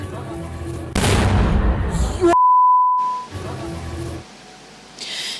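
A loud, rumbling blast in the city of Odesa during wartime bursts out, followed by a sharp electronic beep tone, then quieter rumbling background noise.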